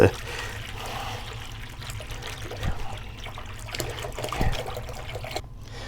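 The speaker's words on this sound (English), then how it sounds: "And we're going to pour it in here." River water from the Uncompahgre is poured into a portable water filter, making a steady trickling splash with soft gurgles that rise and fall over several seconds.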